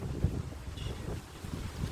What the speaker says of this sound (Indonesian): di sini ya, angin kencang banget